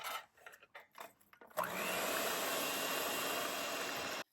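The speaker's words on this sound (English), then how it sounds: "add your vanilla and your 2 eggs and continue beating with your electric mixer for about a minute until it's nice and fluffy" An electric mixer runs steadily at high speed for a few seconds beating cookie dough with vanilla and eggs, a loud continuous whir that cuts off abruptly, preceded by some light kitchen clatter.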